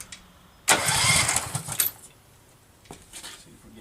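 A Case 446 garden tractor engine under restoration cranks and fires in a sudden loud burst of starter whir and combustion that lasts about a second, then drops away into quiet with a few faint follow-up bursts.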